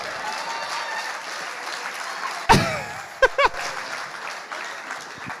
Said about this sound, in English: Once again, Ugandans, clap for yourselves.